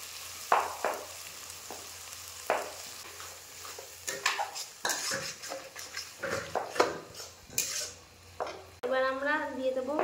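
Tomato and green chilli paste is stir-fried in a pan, with irregular scrapes and clanks of a utensil against metal over a soft sizzle, then a person briefly speaks at the end.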